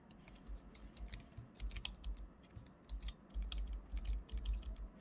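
Steady typing of C code on a computer keyboard, close and continuous clacking with irregular bursts of keys and low thumps from the desk across several seconds, no voice.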